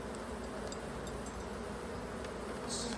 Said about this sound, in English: I have to be more comfortable with lots of bees flying around